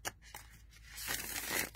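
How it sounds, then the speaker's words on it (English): An indie tarot deck being ripple shuffled gives a fast papery riffle: a few soft taps, then a dense, sustained flutter of card edges, close and fairly quiet. "They do shuffle nicely, the ripple shuffle here."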